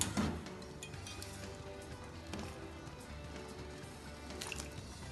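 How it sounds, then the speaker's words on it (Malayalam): Boiled potato fries for French fries are scooped from hot water into a bowl of cold water in a home kitchen, giving faint splashes and drips over a steady low background hum. "ഇനി ഇതിൽ നിന്ന് പോരി ഒരു ബൗളിലേക്ക് തണുത്ത വെള്ളത്തിലേക്ക് ഇടാം"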